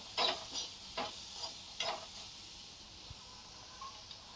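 Tomatoes with salt being mixed in a pan, heard as a few soft scraping stirs early on over a faint sizzle, then quieter near-silence with small clicks.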